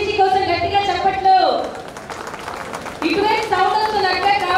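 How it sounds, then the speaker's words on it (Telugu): Audience applause at a Vasavi Business Group anniversary celebration, a crowd clapping under loud amplified music and a speaking voice, dipping briefly midway before swelling again. "అందరూ ఒక్కసారి VBG కోసం గట్టిగా చప్పట్లు"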